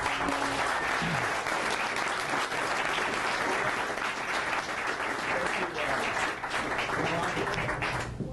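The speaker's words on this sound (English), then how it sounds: "First, a big round of applause." An audience at a talk breaks into a big round of applause, a loud, dense wash of many hands clapping that holds steady throughout, with faint voices mixed in underneath.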